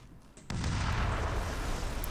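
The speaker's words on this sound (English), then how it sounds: "we're going to blow up this thing" Explosion in the Xbox game Brute Force bursts in suddenly after a quiet moment, a loud, sustained booming blast with rumbling debris noise that carries on to the end.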